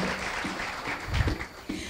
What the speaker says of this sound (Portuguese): Aplausos também.